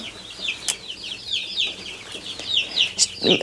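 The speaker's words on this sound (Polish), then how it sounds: "Prawdziwy kurnik." Marans hens cluck inside a chicken coop in a run of quick, repeated clucks close by, ending in a louder squawk and rustle.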